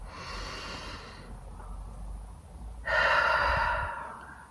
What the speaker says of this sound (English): Just feel in your chest the deep breath rising. And exhale once more.